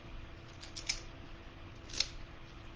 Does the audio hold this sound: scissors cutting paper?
yes